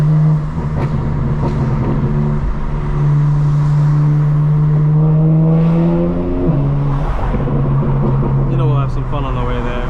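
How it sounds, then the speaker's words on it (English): A 2025 BMW M4 Competition xDrive drives on the road, its engine holding a loud steady drone that rises and falls with gear changes, under a person talking. "So we're going to take a quick drive to the gym."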